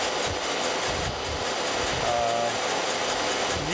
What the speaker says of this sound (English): You can hear it, it's not making a clean cut all the way around right now.